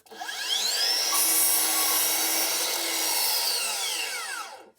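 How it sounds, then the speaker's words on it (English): A miter saw cuts a compound miter through wood: the motor spins up with a rising whine, the blade chews loudly through the board for several seconds, then spins down with a falling pitch, close and alone. "Now we're cutting a compound miter."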